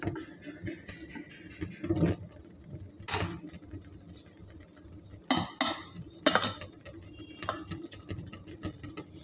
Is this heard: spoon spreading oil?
yes